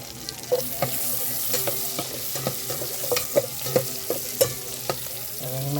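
Crab frying in butter with chili in a pan, a steady sizzle throughout with repeated scraping strokes of a spatula stirring at a fairly even rhythm, close and moderately loud with no talking.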